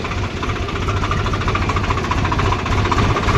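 A diesel tractor engine runs steadily close by, its low, rhythmic chugging throb constant for the whole stretch.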